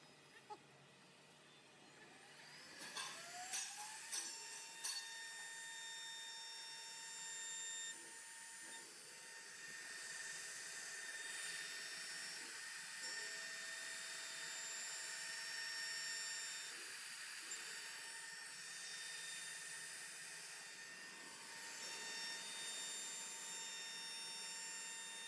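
A CNC lathe fitted with a grinding wheel spindle runs in auto mode, giving a steady high-pitched machine whine with a hum beneath it. A few sharp clicks come near the start, then the tone carries on unbroken to the end.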